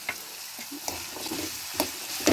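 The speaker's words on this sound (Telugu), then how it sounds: "ఇప్పుడు ములక్కాయ ముక్కలు వేసుకుంటున్నాను" Drumstick pieces going into a sizzling chana dal curry, a soft continuous sizzle broken by a few scattered clinks and taps near the pan, with no talking.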